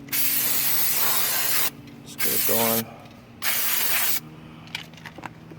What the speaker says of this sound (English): Let's go ahead and spray it down again.